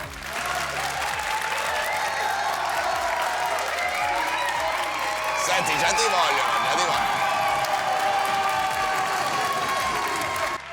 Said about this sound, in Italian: Diamo un benvenuto con un applauso fragoroso al grande Ginetto Micidia.